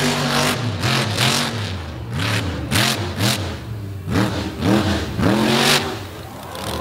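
Monster truck engine revving hard during a freestyle run at a beach show, repeated loud surging bursts rising and falling in pitch, close and aggressive with short gaps between each rev.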